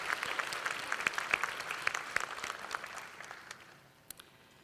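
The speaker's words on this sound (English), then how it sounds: "How about we give everyone a round of applause for celebrating 50 years of service?" Applause from a banquet audience at a chamber of commerce event marking 50 years of service, scattered claps thinning and fading toward the end.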